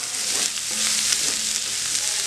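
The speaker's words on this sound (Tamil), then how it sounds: "இதே நறுக்கி வச்சிருக்க வெங்காயத்தை சேர்த்து வணக்குங்க" Onions sizzle steadily in hot oil, a constant bright crackling hiss with soft stirring scrapes now and then.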